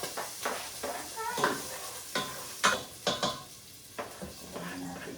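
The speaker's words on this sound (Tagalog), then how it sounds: "Gigisa muna natin na ang garlic and onion together." Garlic and onion are sautéed together in a pan, with a low steady sizzle broken by repeated scraping and clinking stirs of a utensil against the metal.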